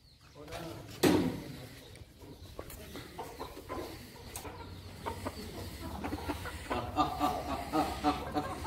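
Chickens cluck and fuss nearby in short, scattered calls. A sharp knock comes early, and there is background movement and faint voices.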